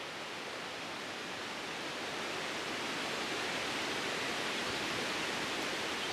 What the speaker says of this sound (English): I could hear the waterfall